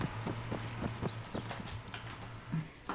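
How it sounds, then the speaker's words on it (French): Horse hooves clip-clop in an Arma III video game scene, a steady walking rhythm of sharp knocks at moderate distance over a low engine-like hum, without talk. "Un cheval"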